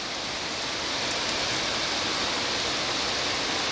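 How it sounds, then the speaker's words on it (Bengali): Heavy monsoon rain pouring down in Dawaipani, Darjeeling, a steady dense hiss of rainfall that stays even and close the whole time, with no voices. "দাওয়াই পানিতে এখন মুষলধারে বৃষ্টি হচ্ছে"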